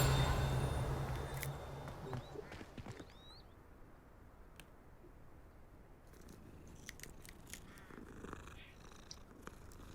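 A cat in the Hogwarts Legacy video game purrs in a soft, steady rumble, loudest at first and then continuing faintly beneath a low background hum with scattered small clicks.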